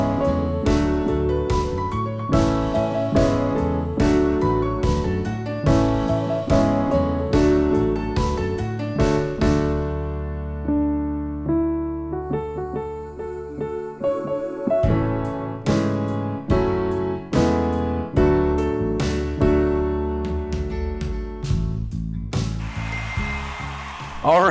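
The chorus of a song is played on piano, with steady, rhythmic struck chords and a bouncing bass line at a moderate tempo, clear and upfront, with a brief sparser passage midway.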